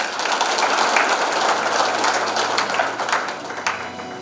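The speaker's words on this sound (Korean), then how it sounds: "많은 박수를 부탁드립니다" Applause from attendees at a regular general meeting, a dense wash of clapping held at steady volume throughout, with a faint low hum beneath.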